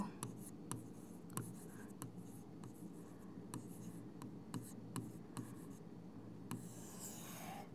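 A pen scratches across paper in short strokes with small taps between them, close and quiet, ending in a rustle of the page.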